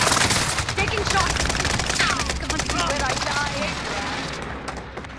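Rapid bursts of automatic gunfire in a tactical multiplayer shooter, crackling close and loud throughout, with radio-style voice callouts layered over the shots.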